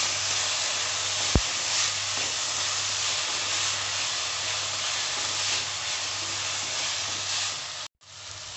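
Chopped tomato tipped onto browned onions frying for dal fry, a loud steady sizzle and hiss filling the pan throughout, with one sharp click early on and an abrupt cut near the end.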